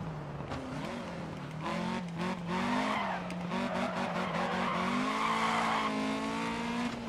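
A Lancia Fulvia rally car in the DiRT Rally video game revs hard along a mountain stage, the engine note climbing and falling between gear changes and echoing off the mountainside, with some tire squeal, loud and continuous.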